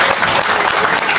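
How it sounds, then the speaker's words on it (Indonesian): Brief burst of audience applause at an Islamic dzikir manaqib gathering honoring a neighborhood official, many hands clapping loudly and densely, close and continuous for about a second. "Bapak Bambang, tepuk tangan buat beliau."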